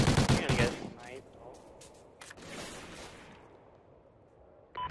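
Gunfire in the video game Call of Duty: Ghosts: a loud opening burst of shots, then a few scattered quieter cracks and a last shot at the end, with players talking over it.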